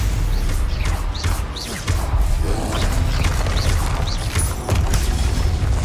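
Spell combat in Hogwarts Legacy with Stupefy being cast: continuous loud magical whooshes, booms and mechanical clanks, with rapid overlapping impacts and no clear pause.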